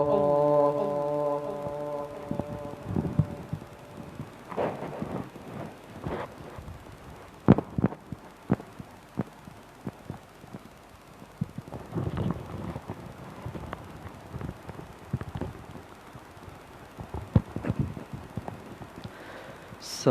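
A heartbeat sound effect thumps in a steady, repeating rhythm of paired beats, fairly loud and close, with a brief low tonal hum at the start.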